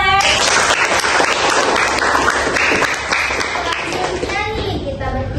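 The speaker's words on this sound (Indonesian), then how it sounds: "Tepuk tangan lagi boleh" An audience claps loudly at a democracy discussion event, a dense sustained round of applause with children's voices and chatter mixed in, fading slightly toward the end.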